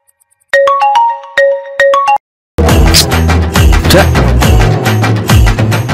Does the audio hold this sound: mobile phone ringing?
yes